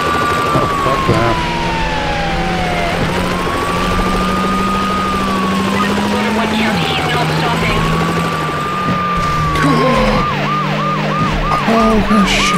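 Loud wailing police sirens sweep up and down, then switch to a rapid yelp, layered over the constant drone of a helicopter, in the video game Need for Speed Hot Pursuit 2.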